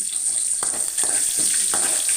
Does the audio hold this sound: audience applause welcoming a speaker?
no